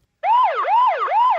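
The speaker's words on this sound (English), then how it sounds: "the home base siren" A eufyCam home base security siren blares loudly and alone, sweeping up and down in a steady repeating wail, about three cycles over the clip after a brief silent start.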